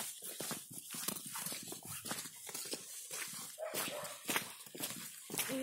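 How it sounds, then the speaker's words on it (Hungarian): A friendly dog moves about close by, making soft irregular scuffling and breathy sounds over a low background hum. "Ott van Voren, az egy olyan kutya, ami barátságos, és nem harap meg"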